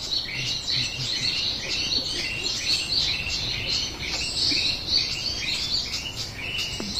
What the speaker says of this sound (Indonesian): Ada perenjak juga.